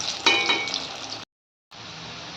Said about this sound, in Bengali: হালকা একটু ফ্রাই হতে দেবো আলুটা, তখন একটু গোল্ডেন টেক্সচার এসে যাবে